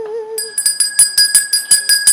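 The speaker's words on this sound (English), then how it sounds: "the sound of a bell is not only very cleansing, but it also attracts positive spirits and positive energies" A small bell is rung before a tarot reading, a clear tone at first followed by a quick series of bright metallic jingling strikes in an even rhythm, close and alone without voices.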